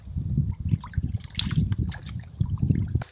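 A forest stream trickles into a 64-ounce water bag being filled during an overnight backpacking trip, close gurgling and dribbling pulses in an irregular rhythm, with no talk.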